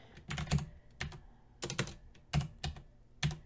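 Keystrokes on a computer keyboard, typed in short quick bursts with pauses between, close and fairly quiet, no voices.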